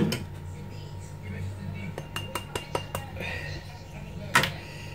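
A utensil clinks and scrapes against a pan while melted mozzarella cheese and ground seeds are mixed for keto chips, with a quick run of sharp taps in the middle and a brighter knock near the end.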